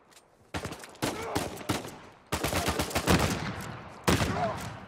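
Uncharted 4 gunfire comes in several sharp, loud bursts of rapid automatic shots separated by short gaps, with a few single cracks and reverberant tails, all close and dominant.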